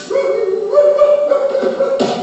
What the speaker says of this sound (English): stop your baying. Stop that barking.